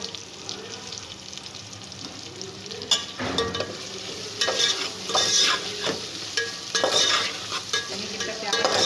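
Chopped green chillies fry in a pan with a soft sizzle, broken by sharp scraping stirs that grow busier and louder partway through; no one speaks.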